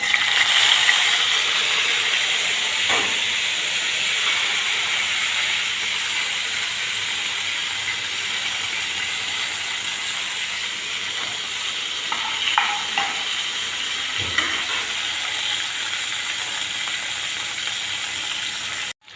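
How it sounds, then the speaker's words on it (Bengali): Spices sizzling steadily in hot mustard oil, a loud continuous frying hiss with occasional clinks of a stirring utensil, no voices. "সরষে তেলের মধ্যে মশলা ছেড়ে দিচ্ছি।"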